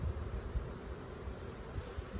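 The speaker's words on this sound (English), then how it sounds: "There's so many bees here though." A brief stretch of honey bees buzzing at the hive in late autumn, a soft, even droning hum with low rumbling bumps beneath it.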